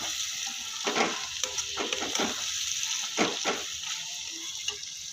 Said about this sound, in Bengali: এবার মশলাটাকে কিন্তু আমি ভালো করে কষিয়ে নেব।